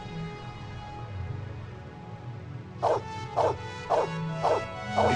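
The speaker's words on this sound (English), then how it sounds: "Good doggy." A dog barking, five evenly spaced barks near the end, loud and close over a low musical bed that fills the quiet start.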